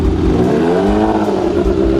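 A big motorcycle engine revving hard through a loud exhaust, one close, rising and falling roar that dominates the clip, with possible voices faintly underneath.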